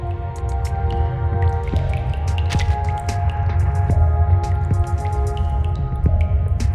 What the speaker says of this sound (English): Water keeps dripping down from the side of the ceiling near the window.